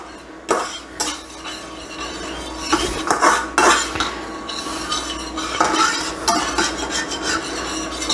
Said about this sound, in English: deglaze our pan, scrape up all those nice brown bits